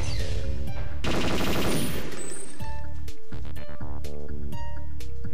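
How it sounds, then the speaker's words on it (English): The Dragon assault rifle in Perfect Dark fires a rapid, loud automatic burst lasting about two seconds. Clipped electronic blips and tones from the game follow it. "The dragon is a really good gun in this game."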